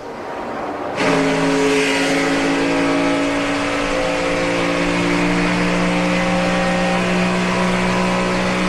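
NASCAR stock cars roar off together at the start of the 2008 Gatorade Duel 2, a sudden loud wall of engine noise bursting in after a second and holding steady with layered droning tones.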